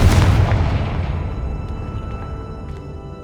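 A Confringo blasting spell explodes in the Hogwarts Legacy video game: one loud, close boom with a heavy low rumble that decays over about three seconds, with faint debris crackle trailing off.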